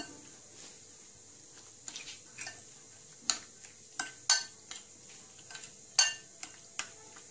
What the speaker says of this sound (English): for the sauce we need 1 cup cabbage and 1 cup yogurt. Mix well.